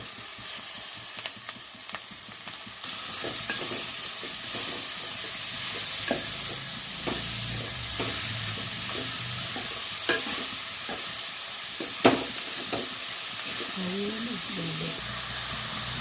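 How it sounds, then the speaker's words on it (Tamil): Onions and tomato sautéing in a pan for cuttlefish thokku, a steady close sizzle with repeated scraping stirs and a sharp clatter near the end, a voice speaking briefly over it. "வெங்காயம் நல்லா வதங்கினதுக்கு அப்புறமா தக்காளி சேர்த்துக்கிறோம்"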